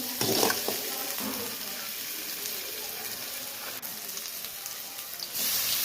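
Chopped tomato frying in a pan for Maggi noodles, a steady close sizzle with brief stirring scrapes, running on its own without talk.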